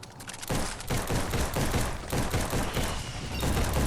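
Rapid rifle gunfire in the video game Biomutant, loud continuous bursts of shots starting abruptly and running almost unbroken to the end.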